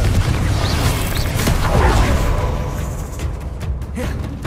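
A Confringo fire spell blast in the video game Hogwarts Legacy: a loud, dense burst of crackling, rumbling roar that fills the whole stretch, swelling in the middle and easing slightly toward the end, with faint game noises mixed in.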